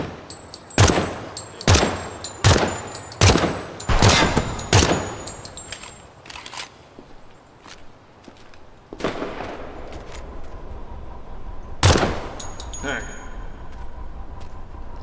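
Rapid rifle fire in Project Silverfish, a 5.56 or 30-06 gun, cracks in a burst of about seven evenly spaced loud shots, followed by two more isolated shots later amid background noise.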